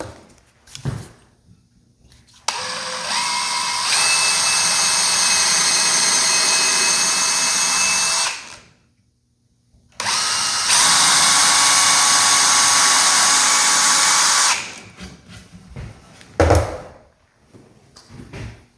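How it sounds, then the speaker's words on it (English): A power drill whines at high speed drilling holes in plywood in two long bursts, each several seconds, separated by a short pause, with faint handling noises around them. "I'm going to drill this out because this is plywood."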